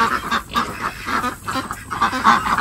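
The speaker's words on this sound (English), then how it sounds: "Hello, duck ducks." Domestic ducks quacking repeatedly on a farm during morning chores, a steady run of nasal calls close by with a few honking geese-like notes mixed in, no speech.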